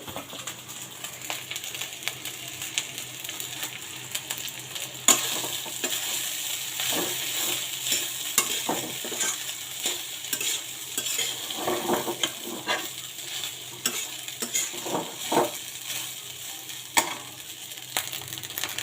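Rice fried in a pan with turmeric and garam masala, a steady close sizzle broken by repeated scraping stirs and occasional clinks of a spoon against the pan, with no talking.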